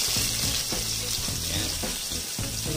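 Garlic sautéing in reused frying oil gives a dense, continuous sizzle with soft stirring scrapes, close and fairly loud throughout.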